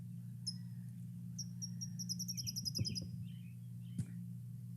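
A male California towhee sings a series of thin, high chirps and short trills over a steady low hum, with a few clicks in the background.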